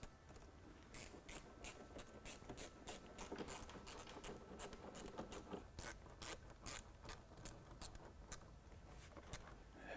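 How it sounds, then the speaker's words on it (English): Hose clamps being tightened on a Steeda ProFlow closed cold air intake in a Ford Mustang GT engine bay, a ratchet clicking in steady rapid bursts up close under faint background noise. "next we're going to tighten up all the clamps"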